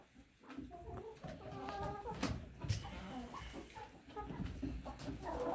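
Backyard chickens, roosters among them, peck at feed mixed with caviar and kitchen scraps, clucking softly and scratching near the microphone amid quiet farmyard ambience.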